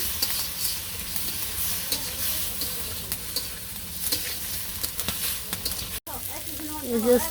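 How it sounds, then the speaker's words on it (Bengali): Turmeric and chili powder sizzling in a village frying pan, a steady low hiss with light scraping as they are stirred, and a brief voice near the end. "এখন একটু নাড়াচাড়া দিয়ে নেই দিলাম নাড়াচাড়া"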